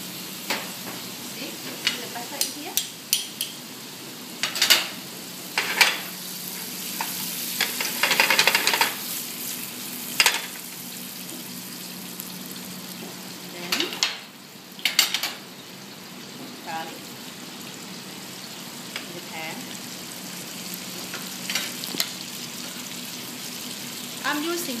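Butter sizzles and crackles in a hot pan for tiger prawns, with a steady frying hiss, a few sharp spatter pops and occasional stirring clatter throughout.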